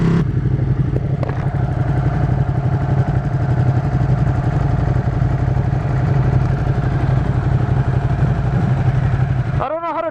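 A 2016 Ducati 959 Panigale engine idles with a steady, close, loud mechanical clatter and throb that holds throughout, ending in a brief whirring chirp.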